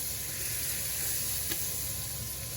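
Melted butter sizzling in a cooking pan for jollof rice, a constant, even hiss with faint crackling, close and steady, with one brief small clink partway through.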